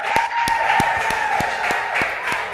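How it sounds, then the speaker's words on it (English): Scattered clapping from a school quiz audience, sharp individual claps at a loose, regular beat alongside a sustained tone and faint crowd murmur. "Please clap for them."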